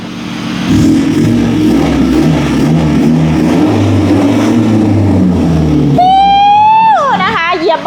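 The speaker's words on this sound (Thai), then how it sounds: "คันนี้จะเป็นท่อซิ่งนะ เดี๋ยวไปฟังเสียงท่อกันดีกว่า" A lowered four-door car with a racing exhaust idles and revs with a loud, rumbling drone for several seconds before a voice briefly cuts in at the end.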